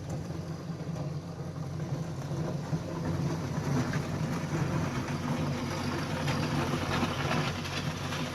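A skid steer working with its bucket on a 2018 Panny's super skid steer bucket, a steady rumbling engine drone with a scraping, grinding texture, continuous and moderately loud, no voices.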